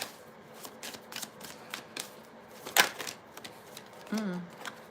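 Tarot cards being shuffled and pulled, with a run of soft riffling flicks and one sharp, louder card snap near the middle, close and fairly quiet, with a brief voiced murmur near the end.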